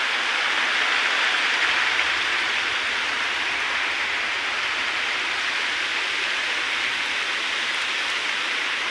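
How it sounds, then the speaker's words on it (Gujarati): Rain falling with wind in a village, a broad continuous hiss that stays loud and even from start to finish, with no voices. "પવન સાથે વરસાદ પણ ચાલુ થઈ ગયો છે।"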